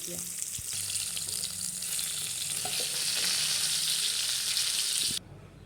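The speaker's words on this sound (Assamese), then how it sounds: "ইয়াত তেলখিনি গৰম হ'লত মই ইয়াত মাছ কেইপিচ এপিচ এপিচকৈ দি দিম" Fish pieces frying in hot oil with a loud, steady sizzle that rises and intensifies, broken by a few scrapes and taps before cutting off abruptly near the end.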